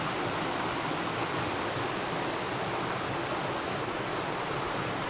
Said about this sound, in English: Lots of water flow.